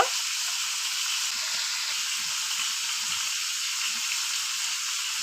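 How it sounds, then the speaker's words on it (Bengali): Fish fat frying in oil in a pan gives a steady, even sizzle that holds unbroken from start to finish, close and moderately loud with no voices. "তেল গুলো আমি ভেজে নিব এইভাবে উল্টিয়ে পাল্টিয়ে ভেজে নিব"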